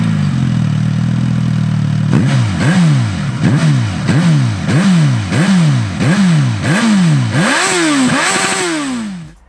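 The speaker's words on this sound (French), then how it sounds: "je vais directement attaquer cet essai en vous parlant du bruit du moteur, du son de l'échappement" Suzuki GSX-S 950 roadster with an inline four-cylinder engine and short exhaust, idling at first and then revving hard in about ten sharp, rising blips, loud and close, with no talking.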